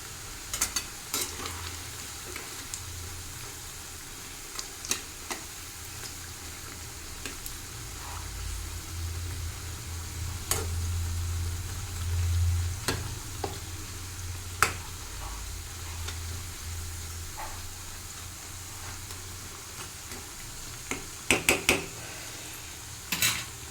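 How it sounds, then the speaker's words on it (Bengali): Onion pakoras (peyaji) frying in a pan in a home kitchen, a soft steady sizzle running throughout with occasional sharp clinks of a utensil against the pan. "যে গরম গরম পেঁয়াজি ভাজা করছি"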